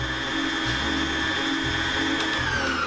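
A loud electric mixer runs steadily as flour is mixed into cookie dough, giving a constant motor whine with slight changes in load and no speech.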